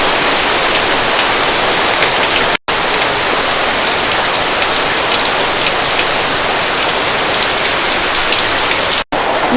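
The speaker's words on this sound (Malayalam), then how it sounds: "അപ്പോഴേക്കും മഴ പെയ്തു" Heavy monsoon rain in Kerala drums steadily on a surface nearby, a loud constant patter broken by two brief silent gaps.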